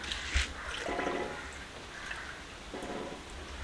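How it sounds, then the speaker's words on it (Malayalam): Water pours into a home fish tank for molly fish in a soft, gushing flow with a few surging bursts, quiet and close by. "ഇനി നമുക്ക് ഇതിലേക്ക് ഇതിൽ കുറച്ച് നല്ല വെള്ളം നിറയ്ക്കാലേ."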